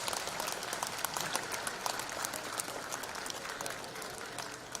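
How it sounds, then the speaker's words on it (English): An audience claps throughout a formal felicitation ceremony for former chief justices and judges, a dense, sustained round of applause from a large crowd. "I request the members of this audience to kindly give a big round of applause."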